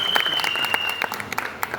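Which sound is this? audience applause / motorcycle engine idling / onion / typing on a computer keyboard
audience applause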